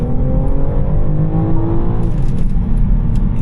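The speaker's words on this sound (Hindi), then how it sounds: "कुछ ऐसी साउंड ये करती है, देखो" Petrol engine of a BMW X5 xDrive in sport mode revving on a mountain road, a loud, close, rising engine drone that peaks and then settles, with no talking over it.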